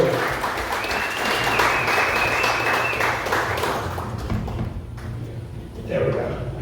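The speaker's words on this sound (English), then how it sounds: "So let's give a round of applause." Applause from an audience at a Frisco Democratic Club happy hour: sustained clapping that swells over several seconds, then thins toward the end, with voices talking underneath.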